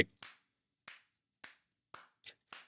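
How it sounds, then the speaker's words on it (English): One person clapping hard, alone, six sharp isolated claps spaced roughly half a second apart, crisp and distinct against silence. "That one person clapping really hard shows up a bunch in this video."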